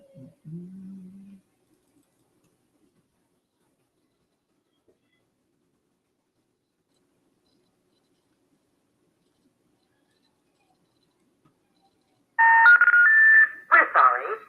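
Telephone tones sound at the start and again near the end: a brief low tone burst, a long silence, then loud close beeps and tones from a failed call to a wrong number, like an intercept signal ahead of a recorded message.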